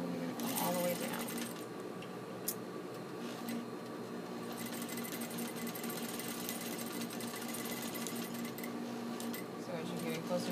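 A sewing machine runs a back stitch while sewing diamond darts, giving a steady, continuous mechanical whir with light rapid ticking. It is fairly quiet and close, with no clear pauses.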